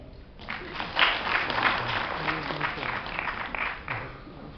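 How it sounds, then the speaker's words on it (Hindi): An audience at a Hindi poetry recitation event claps steadily for the organisers, a dense, continuous round of applause from a seated crowd lasting several seconds. "मैं चाहूंगी कि आयोजकों के लिए विशेष ताली बजाई जाए"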